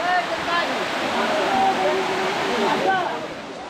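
Ruposhi Jharna waterfall at Sitakunda, Chittagong rushes in a loud, steady broadband roar, with voices of bathers heard over the water.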